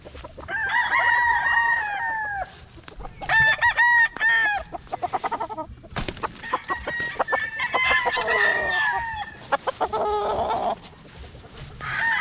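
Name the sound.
young gamecock (stag) crowing and clucking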